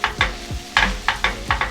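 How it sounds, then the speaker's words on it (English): Noodles frying in a pan, a few short sizzling bursts as they are stirred and shaken around, close and fairly loud with no talking. "the noodles are frying a little bit"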